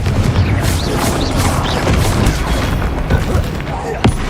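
Magic spell blasts and impacts from the game Hogwarts Legacy, a loud continuous rumbling clash of booms and crashes with a few sharper hits, close and dense under shouted incantations.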